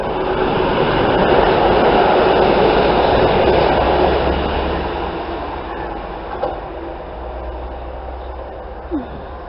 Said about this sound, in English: It's a London Midland service from Liverpool Lime Street to Birmingham New Street